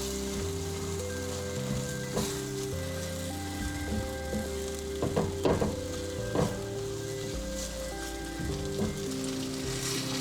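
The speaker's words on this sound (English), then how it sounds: "saute the tomato by melting the butter first" Butter sizzles steadily in a pan with tomato, arborio rice and orzo, a continuous dense frying hiss with occasional stirring scrapes and brief louder crackles, close and alone.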